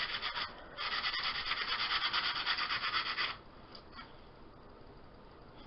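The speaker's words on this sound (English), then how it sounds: "So you just want to sand off some of your" Sandpaper rubs back and forth over a wooden Fourth of July wreath to give it a worn look, a faint, close, scratchy rasping that fades to a few lighter strokes.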